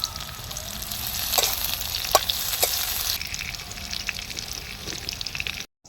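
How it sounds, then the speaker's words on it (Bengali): Chopped onion and garlic sizzle in a hot pan with a bay leaf, making a steady frying hiss with scattered crackles and stirring noises. It cuts off abruptly at the end. "পেঁয়াজ কুচুনা দিয়ে দিলাম তো রসুন কুচানো দিয়ে দিলাম"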